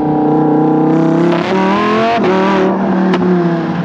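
A Lamborghini Huracan Evo's naturally aspirated V10 blares loudly and close as it downshifts, its engine tone dropping and rising again through quick gear changes in a continuous roar with no talking.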